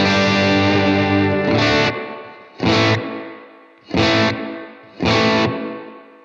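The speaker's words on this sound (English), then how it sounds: "it's got that bloom of a spring reverb" Electric guitar through a Blackstar Amped 2 pedal amp with spring reverb, played as four separate strummed chords, each ringing out loud and blooming into a splashy reverb tail that fades before the next.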